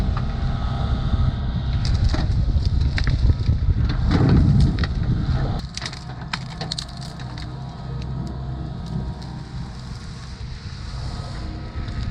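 A tree beside a pond, pulled over by a compact excavator, gives way with a long stretch of creaking, cracking wood and heavy rumbling, loudest midway, then settles into lighter snapping over steady outdoor noise.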